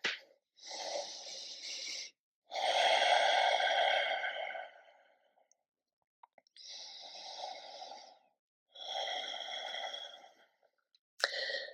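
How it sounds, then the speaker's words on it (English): Slow, deliberate breaths during a morning yoga flow of downward dog and forward folds, several long audible inhales and exhales in steady rhythm with pauses between, close and fairly loud, with no talking. "Breathing here."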